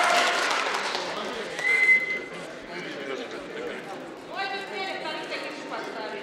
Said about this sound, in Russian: Хлопаем, хлопаем, покажите.